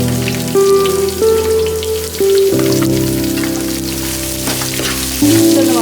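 Onions, ginger and garlic frying in a pan for a Kerala village fish head curry make a constant close sizzle and crackle, with a melodic instrumental tune playing underneath.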